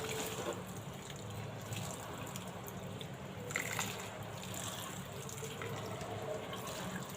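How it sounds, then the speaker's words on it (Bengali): Jute leaves being washed in water, with a steady close splashing and trickling wash of water running throughout and no clear speech over it. "এখন ভালো করে শাকগুলো ধুয়ে নিই।"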